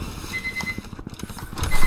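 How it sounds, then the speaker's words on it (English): An electronic beep sounds indoors in two short, steady tones, one early and one at the very end, over a room's low background clatter. "Sorry about the beeping."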